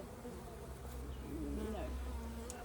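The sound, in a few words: bees buzzing at a top bar beehive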